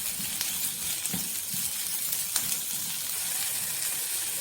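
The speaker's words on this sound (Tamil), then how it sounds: "2 பெரிய வெங்காயம். இது ரொம்பலாம் வதங்க வேண்டாம், ஒரு 2 நிமிஷத்துக்கு வதங்கினா போதும்." Two large onions for chana masala sizzle steadily in a hot pan, a soft close frying hiss with a few faint stirring scrapes and no talk.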